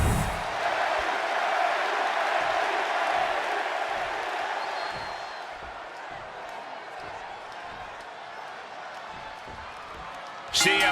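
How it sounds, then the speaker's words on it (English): Arena crowd in WWE 2K26 cheering and roaring for a CM Punk versus Eddie Guerrero match in Chicago, a loud sustained wall of crowd noise under commentary that eases slightly midway, then swells briefly at the end. "just listen to this crowd here in Chicago"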